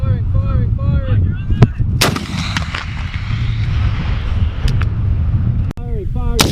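An M3E1 multi-purpose anti-armor weapon fires at a range with a loud, close blast that booms and rolls away, framed by shouted commands before and after and a second sharp report later.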